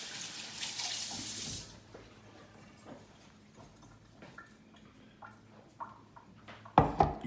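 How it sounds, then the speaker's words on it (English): Hands rinsed under a running kitchen tap, a brief splashing rush of water at the start, then quiet with small clinks and knocks, and another short burst of water near the end. "I'm just going to rinse my hands."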